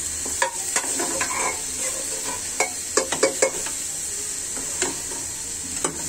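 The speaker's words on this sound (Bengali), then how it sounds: "আমি এখন ঝোলটা ঢেলে দিব" Beef frying in oil for an Eid curry, with broth from a pressure cooker about to be poured in; a steady close sizzle carries on under scattered clicks and scrapes of a stirring spoon.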